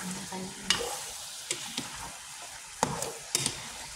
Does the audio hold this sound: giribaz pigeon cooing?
no